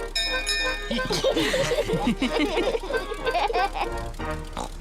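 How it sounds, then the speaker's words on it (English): A ship's bell rings repeatedly on a small boat in a cartoon, bright clangs mixed with children's chatter and giggling close by. "Peppa, ring the bell."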